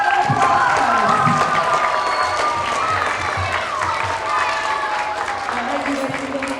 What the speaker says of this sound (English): Let's give our learners a round of applause.